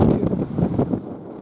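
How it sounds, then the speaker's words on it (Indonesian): Strong coastal wind gusts buffet the microphone in a short loud burst at the shore in Merauke, South Papua, amid high waves. "Angin kencang."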